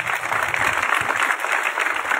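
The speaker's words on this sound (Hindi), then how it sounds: "तो एक बार श्याम बाबा के लिए तालियां तो हो जानी चाहिए।" An audience at a devotional bhajan gathering for Shyam Baba claps together in a dense, steady burst of applause, close and fairly loud, with no voices over it.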